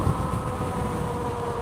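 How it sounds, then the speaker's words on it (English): Strong north wind outdoors during a live electric all-wheel vehicle test ride, a steady broadband rushing roar with low buffeting, continuous and fairly loud without speech. "Holy cow, it's so windy."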